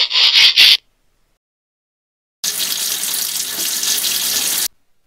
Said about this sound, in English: let's see how this slime likes a blast of my water cannon